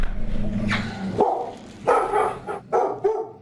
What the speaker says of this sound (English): She then follows the intruder throughout the house, barking the entire time.